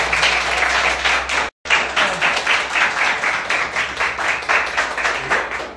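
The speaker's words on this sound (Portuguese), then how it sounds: "uma salva de palmas pra todos nós" A group of people clapping and cheering together, close and loud and continuous apart from a brief cut partway through.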